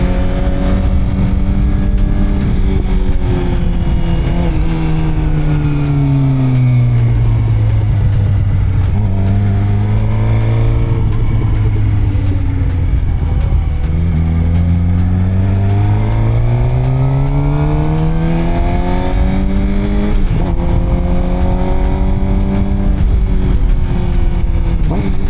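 Suzuki GSXR 600 sport bike engine while riding, a loud steady drone with pitch rising and falling through gear changes as the rider speeds up and slows down, continuous throughout with no talk.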